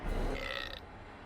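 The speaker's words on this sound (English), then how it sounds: "The hellhole rewarded the sacrifice of a live hero with a respectable burp." A hellhole burps after a live hero is sacrificed in the dungeon-management game Dungeons 3, a single loud, rumbling belch lasting under a second and fading into quiet.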